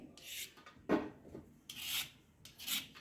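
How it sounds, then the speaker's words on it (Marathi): Carrots being peeled by hand to strip the fibres for carrot burfi, giving rhythmic rasping, scraping strokes, close and fairly faint, repeating every half second or so with brief pauses. "सर्व गाजर शिलून घ्यायचे आहे, म्हणजे यावरती जे धागे असतात ते निघून जातील"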